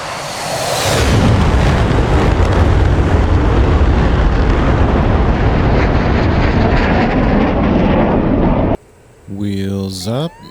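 An F/A-18C Hornet jet taking off in the DCS flight simulator, a loud, roaring engine blast that swells in after a second and holds steady before cutting out, followed by a brief tonal sound and spoken words near the end.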